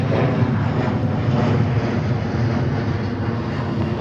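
An Atlas Air heavy jet takes off from runway 34 right with a loud, steady engine roar that fills the scene throughout, with no voices.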